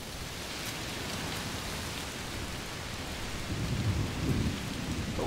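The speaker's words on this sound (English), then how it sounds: "It's a little stormy" Steady heavy rain with rolling thunder in the video game A Plague Tale Requiem, a constant wash of downpour that swells into a deeper rumble near the end, no voices.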